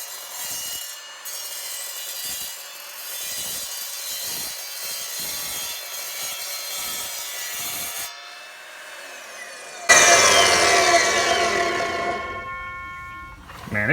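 An Evolution R255SMS 10-inch multi-material sliding miter saw runs steadily with a continuous rubbing, sawing drone through a clamped workpiece, then turns louder and harsher near the end as the blade bites, heard alone without talk.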